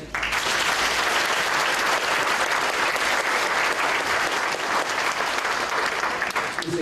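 Loud, sustained applause from a large audience at a university celebration in a hall: dense clapping that continues steadily for several seconds.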